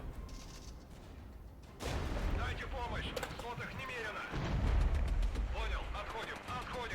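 Mortar rounds land in the war strategy game Regiments, producing a dense, rumbling barrage with heavy low booms that swell midway and stay loud. Scattered cracks of distant gunfire sound throughout, and a voice can be heard under the din.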